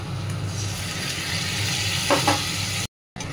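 Ginger and chili paste fries in oil in a pan, giving a steady close sizzle with a few scraping stirs near the end, then a short drop-out before the hiss returns.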